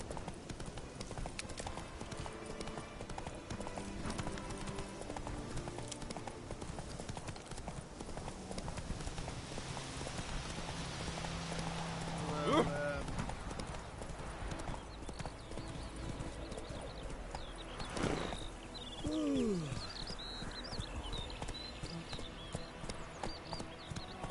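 Roach, the horse in The Witcher 3: Wild Hunt, gallops in a steady, continuous clip-clop of hooves throughout, moderately quiet under game ambience, with a brief whinny partway through.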